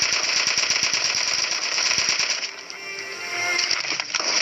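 Rapid gunfire in a video game, shotgun blasts in a fast rattling burst, loud and close over a bright, steady game soundtrack.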